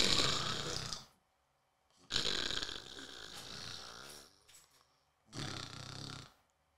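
A man imitates snoring with his voice, three long rasping, grunting snores separated by short pauses, loud and close.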